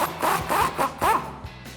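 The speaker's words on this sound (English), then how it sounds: "So I'm gonna use a 21mm socket to get this guy off" A 21mm socket on a ratchet works a nut loose from the suspension of a RAM 1500 pickup, giving four close, loud rasping bursts of ratcheting under a second apart, then a quieter tail.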